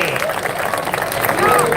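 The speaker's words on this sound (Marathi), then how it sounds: "सोनाली मल्लिक विजय झाली टाळ्या सर्वांनी" A crowd at a wrestling bout claps after Sonali Mandlik's win, with the applause running under a man's announcement over a loudspeaker.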